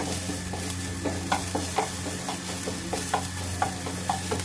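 Finely chopped capsicum and onion stir-fried in a pan, with a soft steady sizzle under repeated clinks and scrapes of a spatula stirring, close and fairly quiet, no talking.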